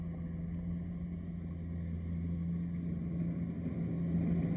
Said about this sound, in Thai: อาจจะมีเสียงดังนะครับ เพราะว่าหัวจรวดห่างนะครับ